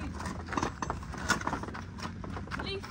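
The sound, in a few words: horse stamping the ground with its hoof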